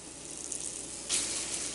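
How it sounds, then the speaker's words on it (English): Pieces of venison searing in oil at medium to medium-high heat give a soft, steady sizzle, fairly faint and close, with a brief brighter hiss near the end. "I'm going to start laying these venison pieces in the oil. And we're going to sear them off."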